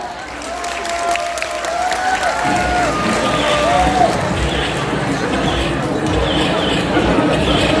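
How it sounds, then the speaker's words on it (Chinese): Audience applause at a mothers' association officers' performance, a broad steady wash of clapping that swells after the first couple of seconds and holds loud throughout, with crowd noise and some voices mixed in. "热烈掌声。"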